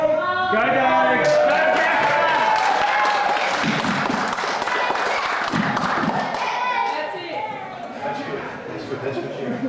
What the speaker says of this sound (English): That's good cheering.